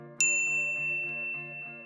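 A single notification bell ding, a bright metallic strike that rings out and decays slowly, heard clearly with soft musical tones beneath.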